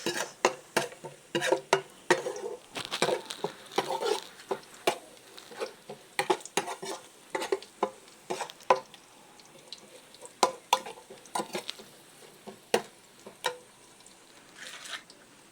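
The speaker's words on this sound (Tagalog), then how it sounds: "At pagka tostado na yung bawang, ilagay na rin natin yung sibuyas." Onions sautéing with toasted garlic in a pan for a Filipino mushroom stir-fry, with a steady soft sizzle broken by frequent sharp clinks and scrapes of a spatula stirring, close and without talk.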